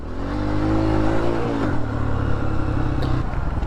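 A dirt bike engine revving close by, the pitch rising and then settling into a steady drone as the rider accelerates, no voices.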